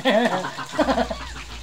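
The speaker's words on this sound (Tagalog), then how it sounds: "yung mga kambing, dangay ma" Goats bleat nearby in a rural yard, a couple of wavering, nasal calls close to the listener, with someone speaking around them and a low hum underneath.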